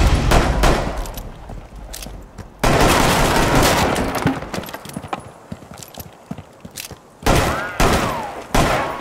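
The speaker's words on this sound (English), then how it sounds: "Gunshots rang out." Gunfire in the Rainbow Six Siege Showdown special event: several loud, sharp bursts of shots separated by quieter stretches, with a steady clip-clop of hooves running underneath.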